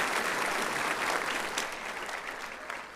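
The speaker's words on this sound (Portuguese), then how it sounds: "Você pode dar uma salva de palmas para essa turma?" Applause from a church congregation fills the space, a dense wash of many hands clapping at moderate distance that tapers off gradually over a few seconds.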